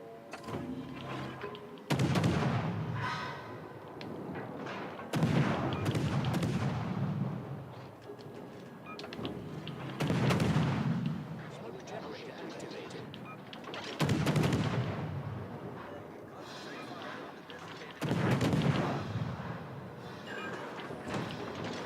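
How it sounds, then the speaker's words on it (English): Naval guns in the warship game World of Warships: Legends fire in repeated heavy booms about every four seconds, each blast rolling off into a long rumbling decay. "Concentrate fire on the enemy warship."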